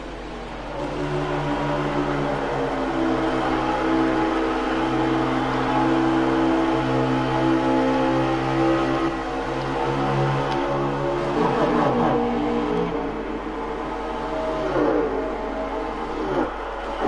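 The number 20 Chevrolet stock car in a sim racing game, its engine a loud sustained droning roar with steady harmonics, shifting pitch slightly as it laps, other cars swelling past now and then.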